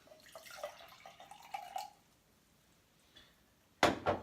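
Extra water being poured into a just-rinsed drinking glass: a soft, faint trickle with light drips, then a brief louder splash near the end.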